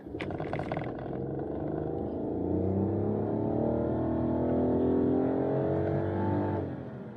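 Toyota Aygo X Cross engine paired with a CVT gearbox, droning steadily under acceleration with a sustained, slightly rising hum that holds throughout before easing off at the end.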